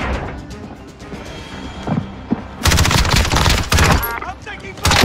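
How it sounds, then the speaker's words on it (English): Gunfire in the tactical shooter Squad starts as scattered distant shots, then erupts into loud, dense bursts of close automatic fire with sharp cracks. "I'm taking fire!"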